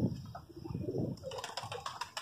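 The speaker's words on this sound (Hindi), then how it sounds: "कबूतर ये देखें अंदर दाने के इंतज़ार में" Pigeons coo in soft, low, throaty bursts close by, followed by a flurry of brighter chirps and rustling near the end.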